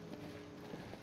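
Horse hooves clip-clop steadily in the Skyrim video game, a soft repeating patter set against a constant background hum.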